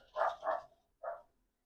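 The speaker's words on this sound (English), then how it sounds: "That was my dog." A dog barks three times indoors, two quick woofs close together followed by a single bark after a short pause, moderately loud and alone without talking.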